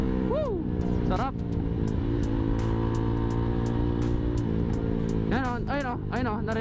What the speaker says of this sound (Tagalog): Kung naririnig man sa camera, nagbabackfire siya.